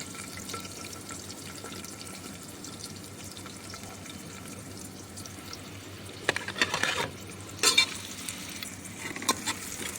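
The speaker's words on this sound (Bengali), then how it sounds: "পেঁয়াজটাকে আগে লাল করে দিতে হবে ভালো করে, তেলে ফ্রাই করে।" Onions frying in oil in a pan for mutton gosht, a quiet, steady sizzle with a few louder stirring scrapes near the end.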